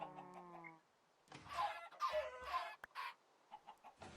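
Chickens cluck and squawk in the Minecraft GregTech modpack, a tonal note first, then a run of close, choppy clucks and flaps, moderately loud with short gaps.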